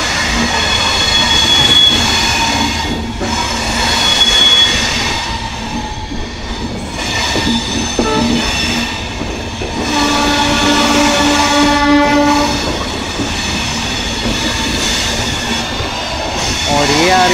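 The 12056 Dehradun Janshatabdi passenger train rolling on rails between Dehradun and New Delhi, with loud steady wheel rumble, clattering joints, squealing wheels and a horn, heard from on board.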